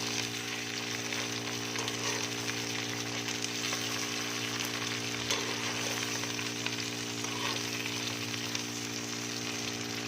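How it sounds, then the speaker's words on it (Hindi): Okra (bhindi) frying in plenty of oil while being stirred with a spoon, a steady dense sizzle running unbroken throughout with faint scraping, no voices. "तो भिंडी को हमने अच्छे से फ्राई करना है।"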